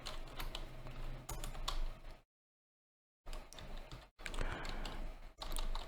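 Rapid keystrokes on a computer keyboard while code is typed, a dense run of close clicks broken by a full second of silence, then more bursts of typing.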